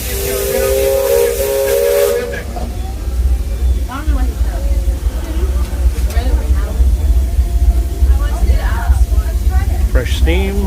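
A Disneyland Railroad steam locomotive sounds a loud steam whistle, then vents bursts of hissing steam close by while people talk over it.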